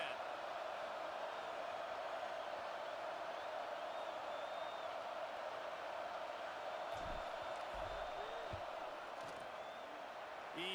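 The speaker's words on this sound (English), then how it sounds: "This crowd trying to do its part to get inside the kicker's head." Stadium crowd in the video game College Football 26 roaring during a field goal attempt, a sustained, fairly distant wash of crowd noise with a few faint whoops, under a commentator's voice.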